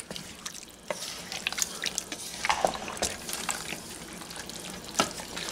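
A spoon stirs beef and its juices into a stew pot, giving scattered wet clicks and soft scraping over a low simmering hiss. The sounds are close and irregular, with no talking.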